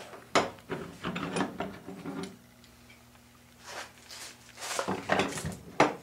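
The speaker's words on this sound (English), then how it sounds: "it makes it a lot easier to get stuff in there if you just pull the lid off completely off. pry this up." Creaking, scraping plastic clatter as a Lifetime compost tumbler lid is pried off its hinges, close and uneven bursts with a quiet pause in the middle and no talking.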